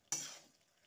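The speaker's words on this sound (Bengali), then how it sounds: "সবজিগুলো খুব ভালোভাবে মশলার সাথে মিশিয়ে নেব।" Fried vegetables, okra among them, tossed into spices in a pan: a single sharp scrape of the spoon followed by a quickly fading soft sizzle, fairly quiet.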